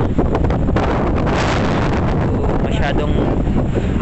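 Strong outdoor wind buffets the microphone continuously with a loud low roar on a San Francisco street.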